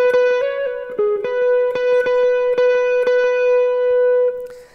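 A distorted electric guitar plays a quick repeated lead phrase from a solo, sustained high notes struck rhythmically, loud and alone, ending abruptly.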